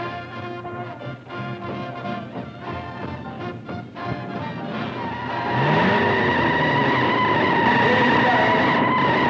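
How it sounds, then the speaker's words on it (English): 1950s hot rods racing, including a Ford Thunderbird, with loud engines roaring close by and rising into a sustained high rev as the cars accelerate. "that T-Bird of hers should turn up a good speed"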